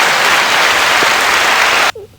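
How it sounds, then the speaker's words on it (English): A crowd claps in dense, loud applause for almost two seconds, then it cuts off abruptly and a short murmur follows. "I think that applause was because it's over."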